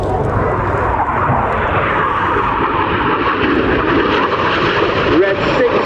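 At the RAF Cosford Airshow, a display jet flies rolls overhead with a continuous, fairly distant engine roar that swells slightly near the end. Commentary over a public address runs through the whole passage.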